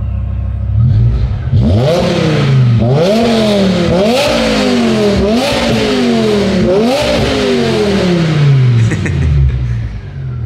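A loud BMW V10 engine revs hard again and again, each surge climbing in pitch then dropping back, with the roar close and continuous.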